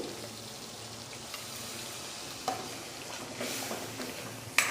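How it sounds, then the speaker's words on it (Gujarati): Water goes into a pan of sizzling onion-tomato masala cooked in oil for a gravy, with a steady close hiss of frying, soft splashes and stirring, and no speech. "આપણે હવે ગ્રેવી કરવી હોય એટલું પાણી નાખવાનું"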